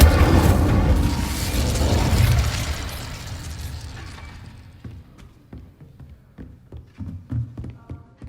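A fire spell cast in Hogwarts Legacy erupts as a loud, roaring whoosh of flame that swells for a few seconds, then fades into scattered crackles and small pops.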